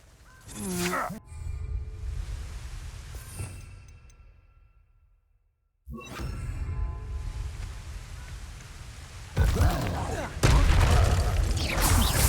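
An Incendio fire spell being cast in the video game Hogwarts Legacy, heard as booming, crackling bursts. A near-silent gap in the middle is followed by louder, harsher blasts toward the end, with some voice sounds mixed in.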